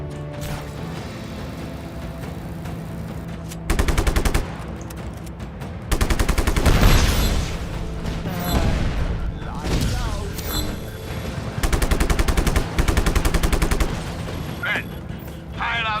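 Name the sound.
gunfire in video game, shooting at transformers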